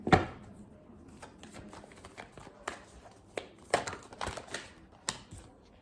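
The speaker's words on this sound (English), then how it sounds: "Let's just pull out some like cards from the tarot now." Tarot cards are drawn and handled at close range, with a sharp initial slap followed by soft clicking, tapping and shuffling sounds in an irregular rhythm.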